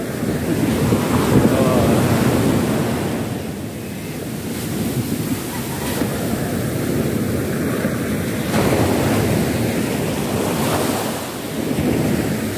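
Ocean waves at sea near the shore, rolling surf and heavy wind noise buffeting the microphone in continuous loud swells that rise and fall.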